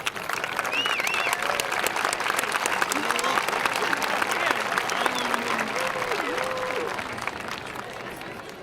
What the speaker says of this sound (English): Let's give a big round of applause for our 2010 homecoming court and homecoming queen.